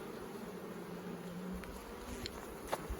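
Honeybees buzzing around an open beehive during a spring inspection, a soft steady drone of many insects with a few louder passes close by, no talk.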